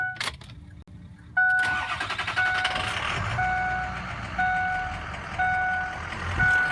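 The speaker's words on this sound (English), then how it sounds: "let you listen to the engine" A 2004 Ford F350 truck engine cranks and starts, then settles into a steady running rumble with repeating electronic chime beeps from the cab, close and fairly loud, with no talking.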